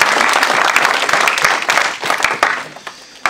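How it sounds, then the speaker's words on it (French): A church congregation at a Sunday service applauds loudly together for several seconds, the clapping thinning out toward the end, with faint voices mixed in. "Nous acclamons très fort le Seigneur"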